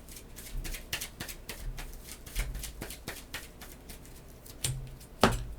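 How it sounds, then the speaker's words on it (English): A deck of game cards is riffled and shuffled nearby in a rapid run of crisp, papery flicks and taps, with a sharper snap near the end. "Shuffle his cards up."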